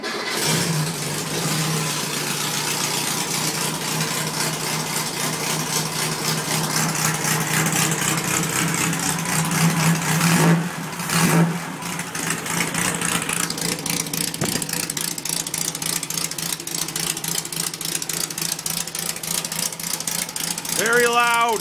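Stock 1600 VW air-cooled engine in a dune buggy fires up in freezing weather and idles roughly, with blips of throttle revving it loud and close throughout; a voice talks over parts of it.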